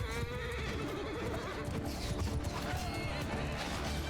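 A horse neighs amid a cavalry battle in the video game Mount & Blade II: Bannerlord, with clattering hooves and battle noise in a busy, steady background mix while a voice talks over it.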